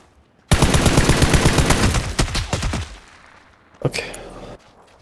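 Rapid automatic gunfire in the battle game PUBG, a fast burst of close, loud shots that thins out into scattered cracks, then one more short volley after a pause.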